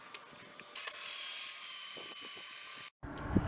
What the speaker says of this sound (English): Alright, so now I'm going to drill out the eye holes.